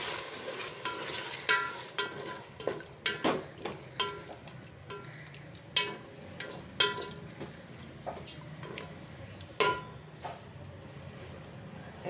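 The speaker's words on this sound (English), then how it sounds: "Stir that very well." Curd being stirred into mutton biryani in a pot, a run of irregular spoon knocks and scrapes against the metal over a low background sizzle, close and fairly quiet.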